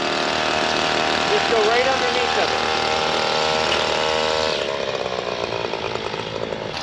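A gas string trimmer runs loudly and steadily close by, its line slapping against a fence with a buzzing, chattering edge that shifts partway through; someone speaks briefly over the engine.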